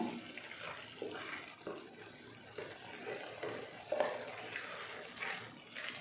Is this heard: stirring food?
yes